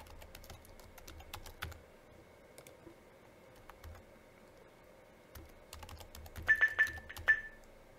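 Keys being tapped on the keypad of a Zebra MC9200-series handheld computer while entering a WiFi password, giving scattered soft clicks and then a quicker burst of louder presses near the end, heard alone in a quiet room.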